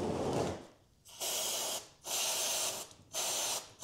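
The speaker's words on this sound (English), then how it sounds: "to take a cleaning solution, such as this contact cleaner, and to spray off the area around your plugs and caps" Contact cleaner is sprayed around the oil plugs and caps of a 2024 KTM 500 EXC-F in three sharp, hissing bursts separated by short pauses, close and loud.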